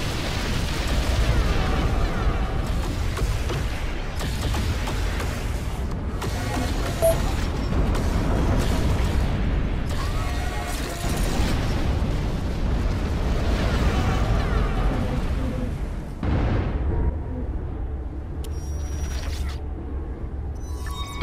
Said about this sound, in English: Enemy dreadnought destroyed.